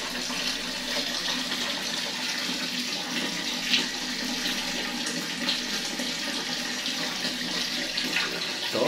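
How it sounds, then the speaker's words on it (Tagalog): Water runs steadily from a tap in an outdoor dirty kitchen where rice is about to be cooked, a continuous close rushing and splashing with no talk. "Ayan, dumating na yung tubig."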